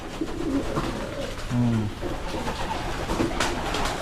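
Pigeons coo in a loft in short, soft, repeated calls over a steady background hum, with faint distant rumble in between.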